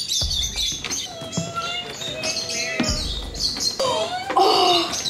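Parrots in the aviaries at Parrot Mountain and Gardens in Pigeon Forge, Tennessee, chirping and whistling in overlapping bright calls, fairly loud and continuous, with scattered clatter and voices in the background.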